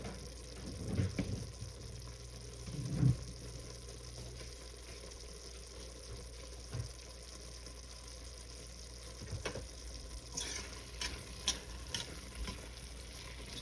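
Pork with bagoong alamang cooks in a pan with a faint, steady low sizzle, broken by a few soft knocks and clinks.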